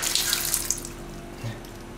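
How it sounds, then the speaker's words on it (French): Water poured from a tap into a pan holding sliced eggplant for a grilled watermelon and eggplant salad, a steady splashing rush that is loudest at the start, then softens and settles briefly, heard alone. "On met de l'eau à mi-hauteur."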